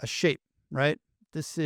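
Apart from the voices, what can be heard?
None of the usual background noises is heard.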